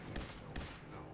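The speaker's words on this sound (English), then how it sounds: "That was the turret." A Fallout 4 turret fires two quick, faint gunshots in a short burst, with brief low noise around them.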